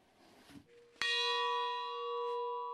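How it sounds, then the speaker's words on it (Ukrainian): A single church bell strikes once at a memorial ceremony, loud and close, its rich ringing tone sustaining and slowly decaying after a brief patch of quiet ambience. "Під дзвін, що пролунав рівно 58 разів"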